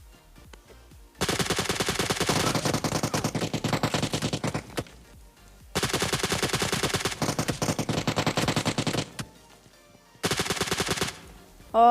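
Automatic gunfire in a shooter video game, heard as three long, dense bursts of rapid shots separated by short quiet gaps, loud and close with no talking over it.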